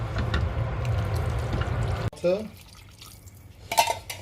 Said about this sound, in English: I feel we can add in another can of water.